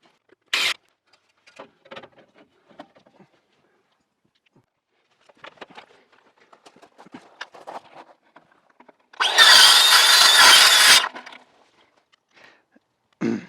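A saw cuts through a round metal rain gutter downspout in one loud grinding burst of about two seconds, set among scattered quieter clanks, taps and handling noises, with a short sharp burst at the start and another at the end.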